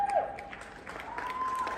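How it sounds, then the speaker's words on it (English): An audience breaks into a short round of clapping at a Scentsy event, a brief, moderately loud patter of many hands. "I'm going to tell him you clapped for that one."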